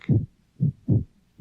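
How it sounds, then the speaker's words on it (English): Heartbeat sound effect from a William Castle horror film: four deep, muffled thumps in an uneven lub-dub rhythm, close and prominent, with near silence between beats. "It's the sound of a heartbeat."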